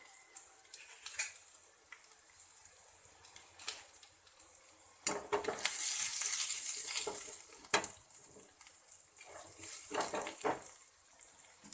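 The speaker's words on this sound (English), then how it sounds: "We need to slightly fry this." Onion and chopped green chilies frying in a pan, with a soft sizzle and occasional stirring scrapes and utensil clinks, louder in a steady frying burst midway.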